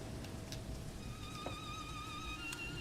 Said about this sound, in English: rainy ambient sounds on a foreboding night in a graveyard in a ghost town